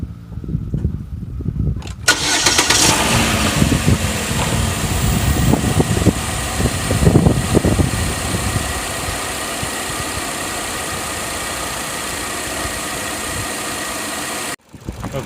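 A 2016 Chevrolet Cruze engine cranks and fires after a moment of quiet, then settles into a steady idle, close-up and continuous, while coolant is bled after a thermostat replacement; no one speaks.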